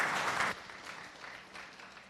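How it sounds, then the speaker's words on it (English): Audience applause for the speakers at a technical session, a dense burst of clapping in the first half second that fades to a softer patter. "Can we have a big round of applause for our speakers?"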